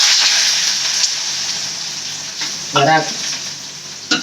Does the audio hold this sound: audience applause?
no